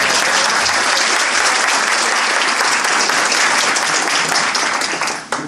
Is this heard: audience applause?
yes